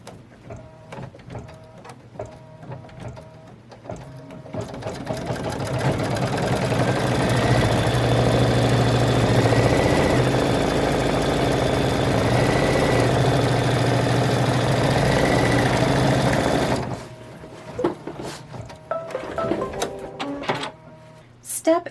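A computerized embroidery machine sews a secure stitch on a children's T-shirt, a steady mechanical whirring hum that swells and holds for about twelve seconds before stopping abruptly, with softer clicks and handling noises before and after.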